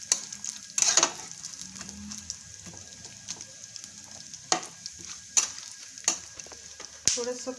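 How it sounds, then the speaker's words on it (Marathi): Almonds and pumpkin seeds frying in hot ghee, a soft steady crackle under sharp intermittent spatula knocks against the pan, close and unhurried. "तूप गरम झालं की त्यात बदाम आणि भोपळ्याच्या बिया टाकून थोड्याशा परतून घ्यायच्यात"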